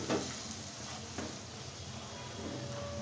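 Ground red chili, turmeric, roasted spice powder and salt, along with a whole cardamom and two cloves, sizzle in hot oil as a steady, soft hiss with a few light stirring knocks, close by and without speech.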